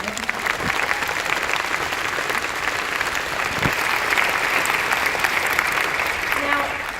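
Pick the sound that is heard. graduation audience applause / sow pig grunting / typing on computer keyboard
graduation audience applause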